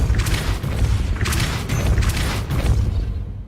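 The Depulso spell cast in Hogwarts Legacy, heard as repeated loud, whooshing magical blasts in quick succession over a low rumbling game soundscape.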